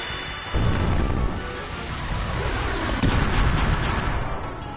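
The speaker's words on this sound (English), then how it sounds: "Fire pillar." Fire Pillar spell effect from Chrono Cross: a loud roaring, crackling burst that erupts sharply and sustains as a dense fiery rumble with a second surge midway, with no talk over it.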